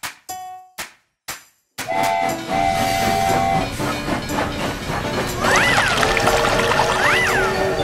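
A train rolls along with steady rumbling rail noise after a few sharp knocks, while a whistle sounds in drawn-out tones and later rising and falling calls.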